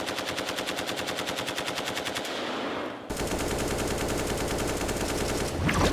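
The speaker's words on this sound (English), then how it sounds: "They shoot them, record them, and then they alter the pitches and filter them in the studio to make the sounds more satisfying like in Call of Duty." Rapid automatic gunfire for a video game like Call of Duty, built from recorded real shots with pitch and filtering altered, rattling in dense continuous bursts, loud and close, with a brief pause before the firing resumes.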